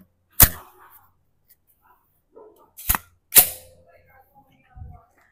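Several sharp gunshots from a Stribog SP9A3S 9mm carbine, one loud report, then a gap and two close shots, then a fainter final pop, each ringing briefly in open air.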